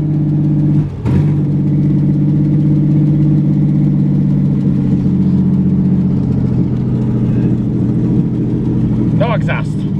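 Truck engine idling with open headers and no exhaust system, a loud, steady, rumbling drone with a brief dip near the start and faint talk in the background.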